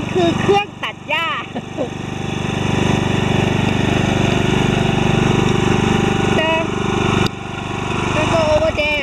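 A lawn mower engine runs continuously at an even level, with a few short spoken words breaking in over the steady motor hum.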